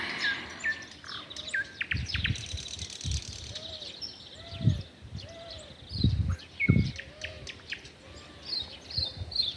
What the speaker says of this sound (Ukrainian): Вранці і ввечері соловейковий співує.